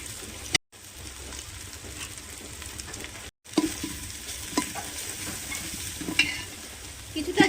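Turmeric and chili powder masala being stirred and fried in a pan for khichuri, a steady close sizzle with scraping strokes of the spoon, broken by two short silent gaps.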